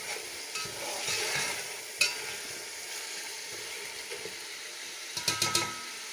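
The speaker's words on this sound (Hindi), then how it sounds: "बस इतना हमने चिकन को इसमें भूनना है" Chicken browns in a pot with garlic and ginger paste for homemade biryani, a quiet sizzle with a sharp utensil knock, then a quick burst of scraping stirs near the end, all fairly faint.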